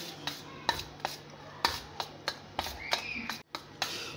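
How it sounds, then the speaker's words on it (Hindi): An egg is beaten into semolina batter for sweet Lahori pooray, with a utensil knocking against the bowl in regular sharp clicks about twice a second, close up and clear, plus faint scraping between strokes. "1 अदद इसमें अंडा मिक्स करेंगे।"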